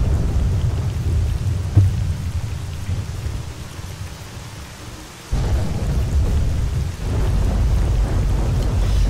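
Steady rain with rolling thunder in the video game S.T.A.L.K.E.R. Call of Pripyat, a dense broadband downpour that dips quieter midway, then surges back loud alongside a low rumbling thunderclap.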